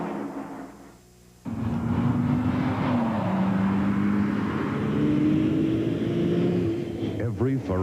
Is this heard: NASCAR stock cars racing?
yes